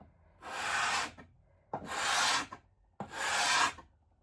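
Three long, steady rasping strokes of a scraper pulled along the grain of an old wooden vanity, lifting the old finish with light pressure. Each stroke lasts under a second, with short pauses between, close and clear with no talking.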